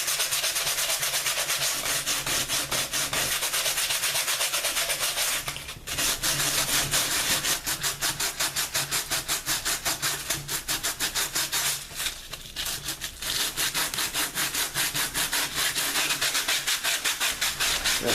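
Sandpaper rubbed over dried pre-mixed concrete patch forming a model layout road, a rapid, steady back-and-forth scratching held close and loud, with a couple of short pauses.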